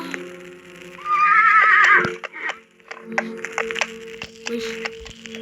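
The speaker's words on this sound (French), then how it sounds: "j'ai entendu un bruit de cheval ou je sais pas" A horse whinnies once in a loud, shrill, quavering neigh inside a Roblox game, followed by scattered cracking and clicking game sounds and a low steady hum.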